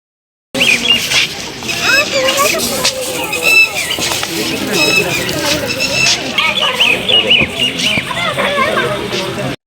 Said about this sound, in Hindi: इतनी प्यारी प्यारी चहचहाहट सुन के आपका भी दिल खुश हो गया होगा